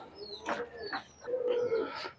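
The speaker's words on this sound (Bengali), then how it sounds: "এই হচ্ছে মাদি কবুতরটা" A female Pakistani Teddy pigeon coos close by, giving a few soft, rolling coos in quick succession, with no talk.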